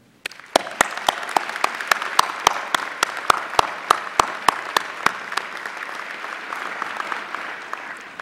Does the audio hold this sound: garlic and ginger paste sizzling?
no